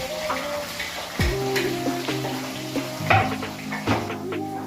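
Chicken kosha frying in a pan in a home kitchen: a steady, close sizzling hiss with occasional scrapes and clinks of stirring against the pan.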